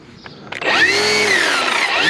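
A battery string trimmer revs up from a brief click to a loud, steady high-pitched whine with slight pitch wavering, close by and alone.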